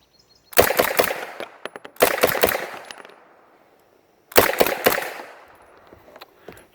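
Semi-automatic Uzi fired at a steel silhouette target on a range, three quick bursts of rapid sharp shots with short ringing tails, loud and close with pauses between strings.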